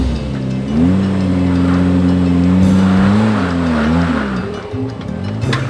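Supercharged Suzuki Jimny climbing an off-road rock step, its engine loud and close, droning and rising as the revs climb and dip under load.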